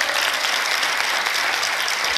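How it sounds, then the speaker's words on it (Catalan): A television quiz show studio audience applauds a contestant with brisk, even clapping that stays steady and fairly loud throughout, with no talking over it. "Ja podem aplaudir-lo."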